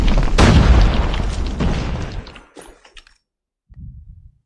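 A video-game grenade detonates in a loud, close boom with a rumbling tail that fades over a couple of seconds, followed by scattered debris clicks, silence, and a faint low rumble afterward.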